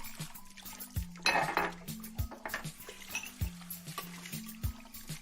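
Dishes and cutlery clatter during washing up in a Cinderella tale, with plates clinking and knocking in irregular bursts, a splash of water in the middle and a low musical drone underneath.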